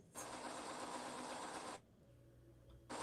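A sewing machine runs loud and steady at close range for under two seconds, stops abruptly, and then starts up again at the very end, with no talking over it.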